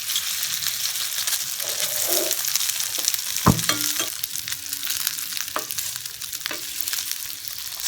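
Vegetarian pierogi fry in a pan, a steady loud sizzle and crackle of hot oil with occasional clinks and scrapes of a utensil against the pan, no voices.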